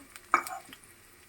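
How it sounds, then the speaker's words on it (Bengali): Onion and garlic frying in a pan while being stirred for a radish bhaji, a single short scrape of the spatula over a soft sizzle that quickly fades, close by and without talk. "পেঁয়াজ একটু রসুন একটুখানি দিয়া বাস এটা একটু ভাজা ভাজা করে নিতে হবে।"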